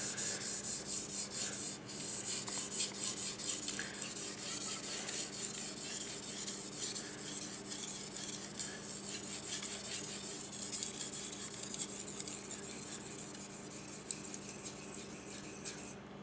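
A knife is sharpened on a Naniwa 8k Snow White whetstone with a little slurry worked up, giving a soft, steady scraping rub in repeated strokes, close and fairly quiet, with no talking.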